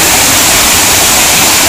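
A loud, close waterfall roars in a dense, unbroken rush of falling water that fills the whole moment.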